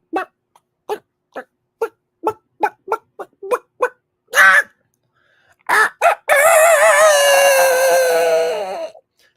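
A voice imitates a chicken, first with a string of short, sharp clucks in an uneven rhythm, then a long, loud, wavering crow-like call held for several seconds, close to the microphone.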